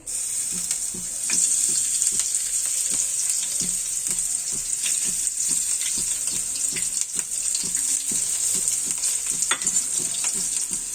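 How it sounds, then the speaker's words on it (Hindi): Finely chopped onion fries in a pot for a healthy vegetable soup, a loud bright continuous sizzle with regular scraping stir strokes throughout, close up and alone, with no voices. "अब इसको अच्छे से भून देना है।"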